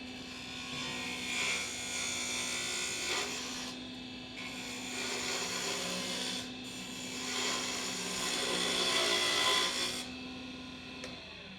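A wooden spindle turning on a lathe while a gouge, braced against the hip and anchored on the tool rest, cuts it with a continuous loud rasping scrape, in several long passes separated by brief pauses, with a steady motor hum underneath.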